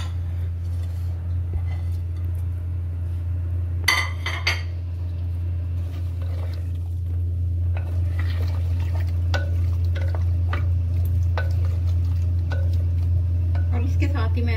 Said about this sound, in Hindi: ये देखिए, मैं इसे हांडी में डाल रही हूँ सारा।